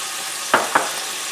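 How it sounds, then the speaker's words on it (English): Garlic and carrots hit a hot pan for a quinoa stir fry, two quick close sizzling bursts over a soft background hiss. "We're going to add now all our vegetables. I'm going to start with my garlic and my carrots"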